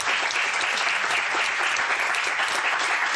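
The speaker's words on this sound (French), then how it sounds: "Je pense qu'on peut vous applaudir." Steady, dense audience applause in a television studio for a young woman who has landed her first fixed-term job, an even wash of clapping with no pauses and no voices over it.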